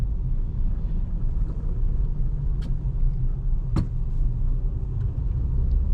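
A 2007 Toyota Highlander Hybrid drives along an unplowed snowy road with a steady, low engine rumble and constant road noise close by, and no one speaks.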